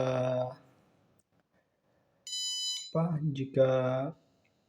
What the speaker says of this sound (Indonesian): buzzer akan berbunyi 2 kali dengan kecepatan yang sangat cepat